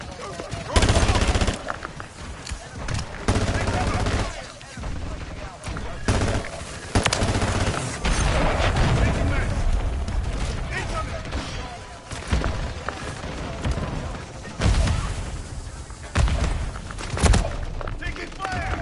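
Dense bursts of automatic gunfire and scattered shots in Call of Duty Modern Warfare III, loud and continuous across the whole stretch, with brief gaps between volleys and voices calling out over the battle.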